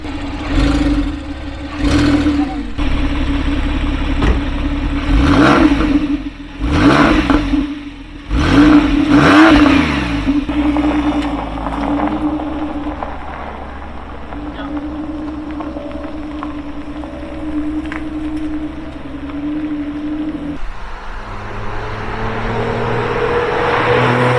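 A Porsche 997 911 GTS flat-six revs hard, loud and close, with several sharp rising and falling blips early on, then a sustained engine drone that settles to a lower tone near the end.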